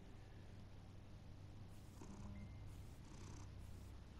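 A cat purrs in the Batman Telltale video game, a low, continuous rumbling hum that stays close and steady, with faint background tones drifting in and out and no speech.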